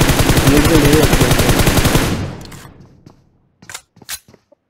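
An M4 rifle fires a loud, rapid automatic burst in a PUBG-style shooter for about two seconds, then fades out, followed by a few faint, distant single shots.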